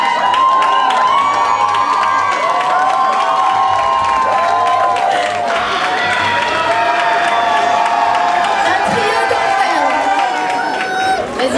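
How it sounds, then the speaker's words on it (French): Crowd cheering and clapping for gothic Lolita costume models at a 2006 evening fan event, a steady loud roar of voices and applause with shouts and talk over it throughout. "On les applaudit quand même, on les encourage"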